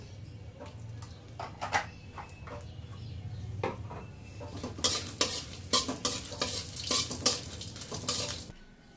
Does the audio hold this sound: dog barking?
no